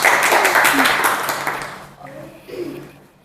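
Audience applause for a guest on a podcast, a loud, dense burst of clapping that fades after about two seconds, followed by people talking.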